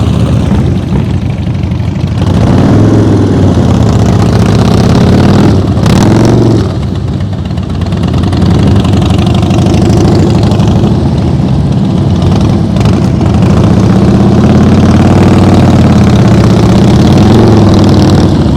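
A motorcycle engine during slow-speed riding practice runs close and loud, with a steady throttle-held drone and rising and falling revs as the bike is worked around.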